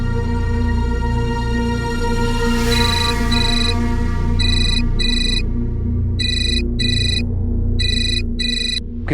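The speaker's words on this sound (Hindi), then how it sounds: "किसका फोन है?" A telephone rings in a home during a family scene at mealtime, with repeated bursts of electronic ringing in evenly spaced pairs over a steady low background hum, loud and near.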